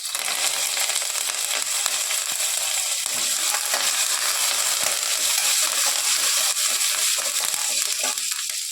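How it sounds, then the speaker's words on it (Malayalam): Chopped green chillies, shallots and curry leaves fry loudly in hot oil in a pan, a dense continuous crackling sizzle with scattered sharp pops throughout. "മുളകും കൊച്ചുള്ളിയും കൂടെ അരിഞ്ഞത് ഇട്ട് കൊടുക്കാം ഇനി കറിവേപ്പില ഇടാം"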